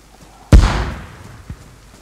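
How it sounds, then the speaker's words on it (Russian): A single sharp, booming grenade explosion in the video game DayZ hits suddenly and decays into a rumbling tail, followed by a faint thud moments later. "Один взрыв был"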